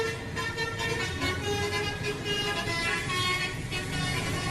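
An Indonesian bus sounds its telolet horn in a continuous, loud melodic tooting over roadside traffic and crowd noise, the tones holding steady throughout.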